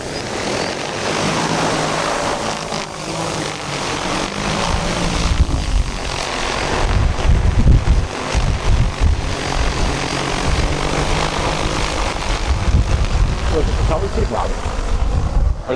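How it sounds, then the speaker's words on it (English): A DJI Agras T20P agricultural drone spools up for takeoff outdoors. A low, building propeller roar grows louder and rougher over several seconds, with wind buffeting on the microphone and people talking nearby. "Aircraft preparing to take off."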